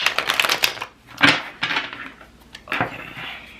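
A deck of oracle cards is shuffled by hand, giving several close, crisp riffling bursts separated by short pauses.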